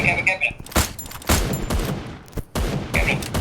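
Bursts of gunfire from the Free Fire battle royale game, several sharp shots in quick succession, with a squad talking over them.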